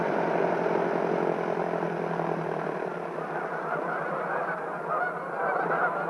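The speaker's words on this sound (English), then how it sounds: "There have been occasions when 2/3 of all the Canada geese of the Mississippi flyway have been here at Horicon at the same time." A large flock of Canada geese honks in a dense, continuous chorus across Horicon Marsh, many overlapping calls blending into a loud, steady wash of sound.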